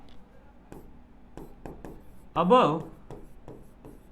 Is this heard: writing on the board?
yes